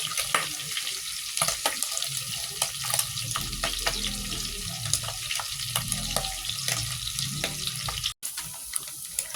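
Pork belly fries in oil until brown, giving a steady, close sizzle and crackle with occasional stirring scrapes and clinks, no voices.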